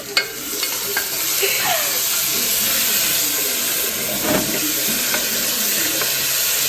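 Onion, tomato and potato sauté in a pressure cooker, a close, continuous sizzle and hiss with occasional scrapes and clinks of stirring throughout.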